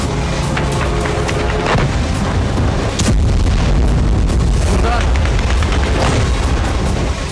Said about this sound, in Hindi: कजान की शीशे वाली चमचमाती इमारत से यूक्रेन का ड्रोन टकराया और जोरदार धमाका होते ही आग लग गई